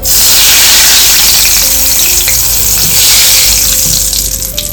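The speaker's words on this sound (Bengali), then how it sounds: "এবার আমি সাদা তেল দেবো তেলে এবার দুটো এলাচ ফাটিয়ে দেবো ডালচিনি দেবো আর দুটো তেজপাতা" Cardamom, cinnamon and bay leaves sizzle loudly in hot white oil, a close, continuous hissing crackle that holds steady with no voices.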